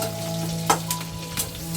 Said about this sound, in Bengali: পেঁয়াজ দিয়ে দিলাম। পেঁয়াজটা একটু ভাজবো।